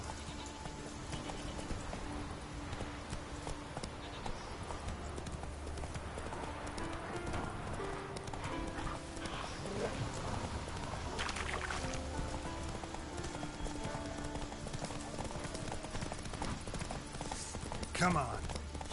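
Roach, Geralt's horse, gallops in The Witcher 3: Wild Hunt, a steady rhythmic clip-clop of hooves running through the whole stretch under game music and ambience, with voices speaking at points.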